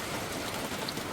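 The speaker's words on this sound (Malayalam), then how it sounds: "ഇവിടെ നല്ല മഴയാണ്" Heavy rain pours in a steady, dense hiss with no pauses, close and fairly loud, and nobody speaks.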